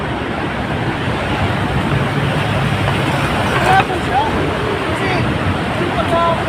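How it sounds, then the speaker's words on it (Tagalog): Road traffic in a long jammed queue at Bicutan, Sucat gives a steady broadband rumble of idling and crawling vehicles, with a brief louder pass midway and faint horn-like chirps, while someone talks over it. "Traffic yun mga kaidol"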